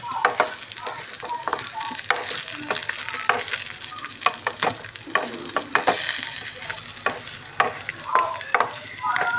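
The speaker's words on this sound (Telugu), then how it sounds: "కాసేపు 5 నిమిషాలు వేయించుకున్న జీలకర్ర వేసుకొని కూడా కొంచెం లైట్గా వేయించుకోవాలండి" Cumin seeds frying in hot oil, a close continuous sizzle with crackling pops and occasional stirring scrapes throughout.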